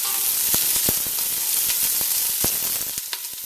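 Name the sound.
garlic and seasoning peppers sizzling while stirred in pot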